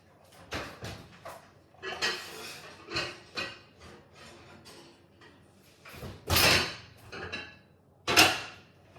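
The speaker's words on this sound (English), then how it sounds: "Going to get my baking dish out of the oven." A hot baking dish is lifted out of a home oven for sourdough baking, giving several scattered clunks and metallic knocks, with a couple of louder sharp bangs near the end.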